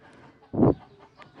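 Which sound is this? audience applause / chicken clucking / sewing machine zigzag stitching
chicken clucking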